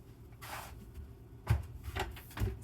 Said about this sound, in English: I'm putting on the other door right now